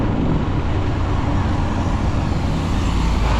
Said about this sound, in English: Big tractor.